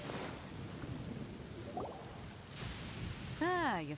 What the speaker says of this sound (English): E pelo visto a gente vai num dia de chuva